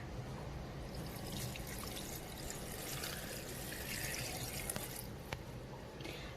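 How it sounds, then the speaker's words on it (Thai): Plain water is poured into a blender holding ginger and green chillies for an Indian pani puri filling, a quiet continuous trickle and splash with a few small drips and light clinks near the end. "จากนี้เราจะใส่น้ำเปล่านะคะ ลงไปปั่นให้ละเอียดยิบเลยนะคะ"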